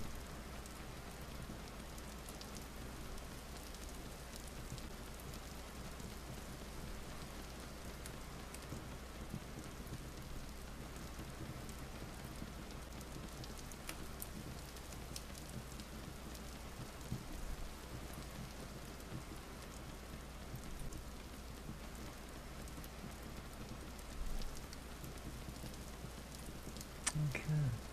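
Heavy rain pours down in the game Vintage Story, a constant, even hiss of falling water over a low rumble, with a few brief louder spatters near the end.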